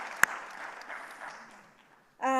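Scattered applause from a conference audience, starting with a sharp clap and thinning into a light, fading patter before a voice cuts in at the end.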